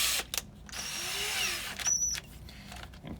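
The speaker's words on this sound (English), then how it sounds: "we're using an 1/8 inch drill bit, or you can use something even a little smaller if you need to. You're just gonna make a pilot hole there" A power drill with a 1/8 inch bit whirs in short bursts while boring a pilot hole for a Hafele Symo lock install, the motor rising and stopping twice up close; no talking.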